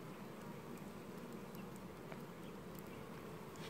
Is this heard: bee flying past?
yes